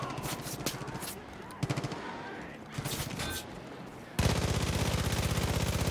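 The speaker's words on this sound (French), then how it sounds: "Ça se tire dessus." Gunfire in Far Cry 5, with repeated bursts of automatic shots and scattered single cracks, then a loud, sustained stretch of continuous rapid fire toward the end.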